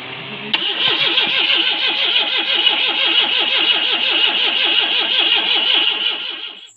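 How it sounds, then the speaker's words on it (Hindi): After an abrupt click, a car's engine cranks steadily in a fast, even rhythm after rain, whirring loudly and close for several seconds without catching, then cuts off. "तो इस गाड़ी को स्टार्ट करते हैं।"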